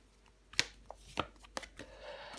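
A tarot card is slapped down onto a table during a reading, with a few sharp card taps and light shuffling of cards close by, fairly quiet with no voice.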